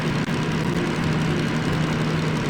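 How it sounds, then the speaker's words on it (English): Diesel DM3 locomotive engine in the train simulator Derail Valley, droning steadily with a loud low throb and a buzzy tone like an old propeller fighter plane, with no voices. "Diesel engine's pottering along very nicely."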